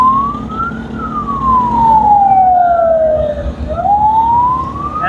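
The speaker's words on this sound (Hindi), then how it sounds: "पीछे एम्बुलेंस है" An ambulance siren wails loudly on a rainy road behind a moving motorbike, its tone sweeping up and down steadily as it passes close by, over rain and engine rumble.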